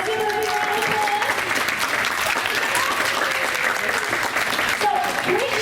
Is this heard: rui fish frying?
no